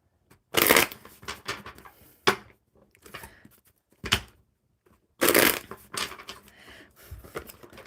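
Tarot cards being shuffled, with several loud papery riffling bursts separated by short pauses and softer flicks, close up and alone.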